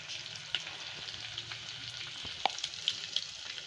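Quiet, steady sizzling of spices, dried chilies and crushed green chili with cumin frying in oil for tempering, with a few small pops and crackles scattered through.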